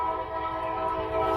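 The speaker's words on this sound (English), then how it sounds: "You hear the train, guys?" A train sounding its horn nearby, a steady sustained horn blast heard alone throughout the short moment.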